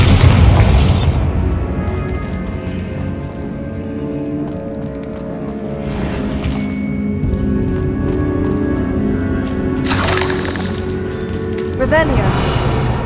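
A Bombarda blasting spell detonates in Hogwarts Legacy, giving booming explosive bursts with crumbling debris over a continuous musical score and game ambience; loud, with heavy low-end impacts near the start and again around the tenth second.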